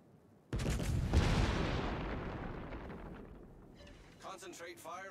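A warship's artillery fires in a naval battle game, one sudden heavy boom rolling into a long fading rumble, followed by a fainter crackle near the end.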